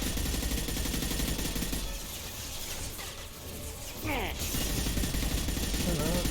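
Bursts of gunfire ring out in the video game Mass Effect 2, continuous rapid shooting over a dense mechanical game soundscape, dipping briefly before resuming at full loudness.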